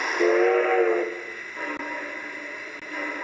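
A train gives a short whistle tone, then a steady hiss of escaping steam carries on as it lets off steam, with a couple of faint clicks.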